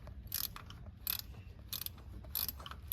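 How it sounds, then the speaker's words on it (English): A ratchet spanner tightens a bolt on the vacuum pump of a Ford Ranger or Everest engine, four quick bursts of sharp metallic clicking in a steady rhythm, close and fairly faint. "So the ratchet spanners make light work of tightening it up."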